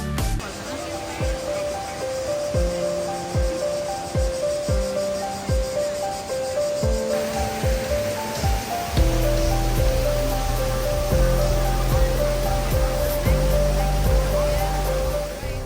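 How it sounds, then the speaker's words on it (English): Roar of the Kravica waterfalls in Bosnia, about 25 meters high, a steady broadband rush of falling water heard under loud music that plays throughout. "We can already hear the roar of the water"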